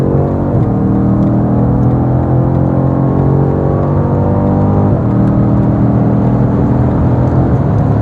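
A BMW M5 Competition F90 accelerates hard while overtaking on the road, its engine note loud and steady with rising, sweeping harmonics throughout, heard from inside the car with no talking.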